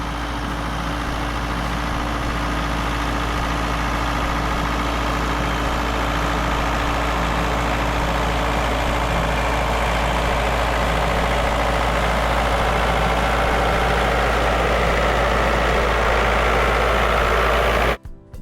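A tractor engine idles steadily in a muddy pit, a loud continuous low rumble that holds unchanged for the whole stretch before cutting off abruptly at the end.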